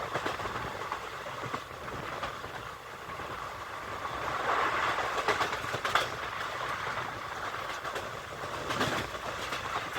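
A train on the Pune–Miraj line speeds through Kirloskarwadi railway station on a Kolhapur–Satara journey, giving a continuous rumbling roar with rail clatter that swells and eases, heard from close by without speech.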